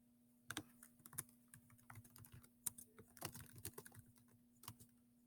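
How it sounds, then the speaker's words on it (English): Typing on a computer keyboard, a quiet stream of irregular key clicks with small pauses and no talk over it. "I'll type it right now, actually."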